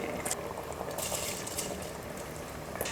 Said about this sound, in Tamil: தண்ணி நல்லா கொதிக்க ஆரம்பித்ததுக்கப்புறமா அரிசி சேர்த்துக்க போகிறேன்